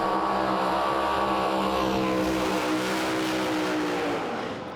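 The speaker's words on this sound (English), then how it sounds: "Oh, the high revving sound of that Gulf Western Oil 57 Chevrolet for Bray." A Gulf Western Oil 1957 Chevrolet race car screaming at high revs on a racetrack, a loud sustained engine note that climbs and then begins to fade as it passes.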